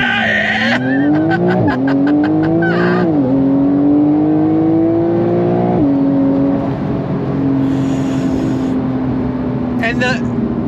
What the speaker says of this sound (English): Launch control, you ready? On throttle, here we go!